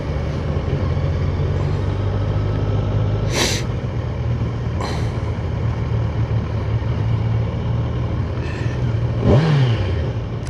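A 2021 Kawasaki Ninja 1000 sport motorcycle idles with a steady, deep exhaust rumble, a few brief sharp blips, and a quick falling pitch near the end.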